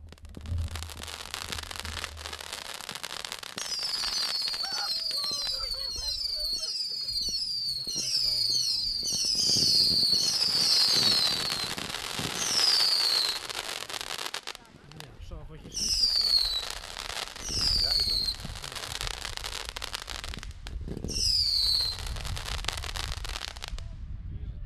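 A 200-shot small-caliber firework cake fires a rapid string of shots that whistle and pop in quick succession, pausing and resuming, with whistling rises and crackles at moderate distance.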